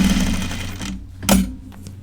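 A home sewing machine stitches a seam in a run of steady whirring, then stops, and a few short bursts of stitching follow. The sound is close and loud, with no talking.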